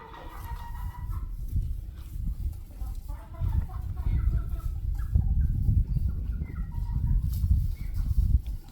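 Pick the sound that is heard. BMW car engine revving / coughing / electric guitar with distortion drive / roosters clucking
roosters clucking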